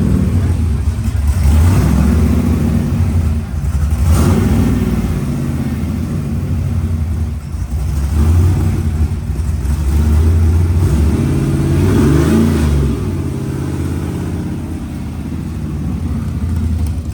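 An off-road pre-runner truck built in Mexicali revs nearby at the Glamis dunes, its engine rising and falling in repeated loud surges over continuous rumble, with voices faintly mixed in.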